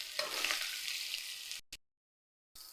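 Bitter gourd fries in oil on a low flame with a soft, steady sizzle for about a second and a half. It cuts out briefly, then comes back faintly.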